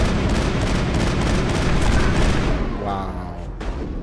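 Gunfire from the video game Mass Effect, a dense barrage of loud shots and booming impacts that thins out near the end, with a short tonal effect trailing after.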